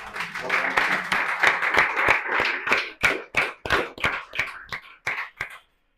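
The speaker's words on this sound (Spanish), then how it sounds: "vamos a darle un aplauso de bienvenida a la psicóloga" An audience claps to welcome a psychologist onto a stage: brisk, crisp clapping that thins to scattered, separate claps and stops near the end.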